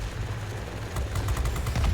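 A Bf 110 C-6 heavy fighter in World of Warplanes fires its 30mm cannons, a quick rapid burst of heavy thumping shots that builds over a steady engine drone, loud and close.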